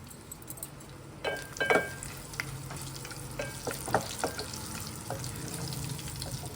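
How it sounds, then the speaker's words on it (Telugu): Whole spices sizzle in hot oil in a pot for bagara rice, a steady close crackle with a few sharper stirring clicks and scrapes partway through; no one speaks. "మసాలా దినుసులు అన్నీ వేసానండి"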